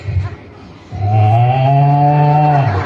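A person imitates a cow, letting out a long, low, drawn-out moo after a brief pause, close and loud.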